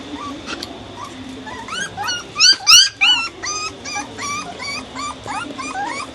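A puppy whimpers and yips in a series of high, wavering cries that rise and fall, loudest in the middle and continuing in shorter bursts, close by with no talk over them.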